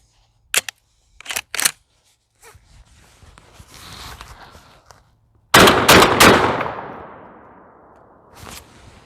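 A Girsan MC312 semi-automatic shotgun with a cylinder-bore choke fires a slug outdoors, one loud blast with a long echoing tail, preceded by several sharp mechanical clicks and handling noises.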